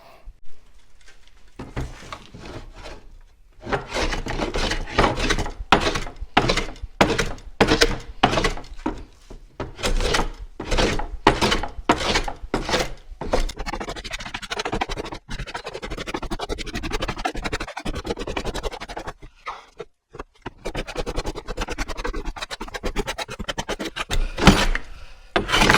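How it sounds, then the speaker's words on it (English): Scrub hand plane taking heavy passes across an ash board to bring it to 3/4 inch thickness, a rapid series of loud rasping strokes in bursts with brief pauses between runs. "Let's get the scrub on this now, get it down to thickness all the way around."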